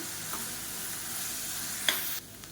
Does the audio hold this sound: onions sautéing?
yes